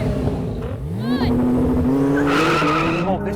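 Porsche 911 Turbo, Nissan GT-R and BMW M5 Competition launching together in a drag race, a loud rising engine roar with a brief tire squeal, heard up close for a few seconds.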